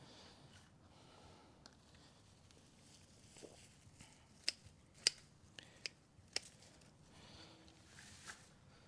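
Pruning shears cut through neem tree branches outdoors, giving a handful of sharp, isolated snips spread unevenly over quiet background noise, close and fairly faint.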